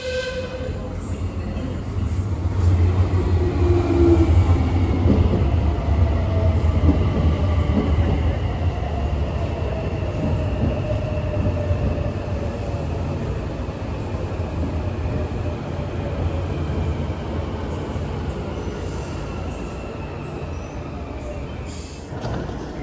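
Inside a Tren Suburbano passenger train running in Mexico, a steady rumble of wheels on rail with whining motors rises and eases over twenty seconds, a brief chime near the start and faint voices.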